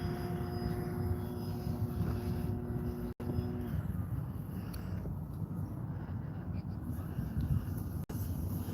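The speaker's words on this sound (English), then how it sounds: "I don't want to lose the plane." Large RC plane flying in strong wind, a steady engine drone with one brief tonal whine early on, heard through constant wind buffeting on the microphone.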